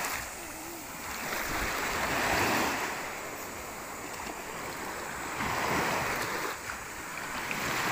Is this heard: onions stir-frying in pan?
no